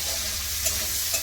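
Bitter gourd fries in oil with onion, garlic and green chili, a steady close sizzle with a couple of soft stirring scrapes through the short stretch.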